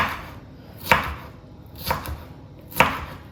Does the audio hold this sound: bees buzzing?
no